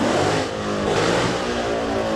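Loud, continuous engine roar from a 2015 Mustang GT with straight pipe headers, revving hard and holding high through the whole short burst, nearby at an outdoor fair car show.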